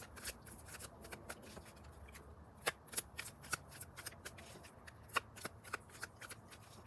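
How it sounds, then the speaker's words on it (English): A deck of tarot cards is shuffled up close in quiet surroundings, making a series of crisp, irregular riffling snaps and soft slides. "all in the deck as I'm shuffling"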